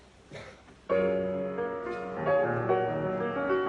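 A melody played on a sustained, chord-rich instrument, starting after a short quiet lead-in and continuing steadily at moderate loudness, with no talking over it.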